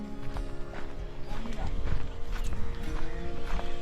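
Hooves clop unevenly on the ground as racing bullocks walk close by toward a lake, with a voice talking intermittently over the steps.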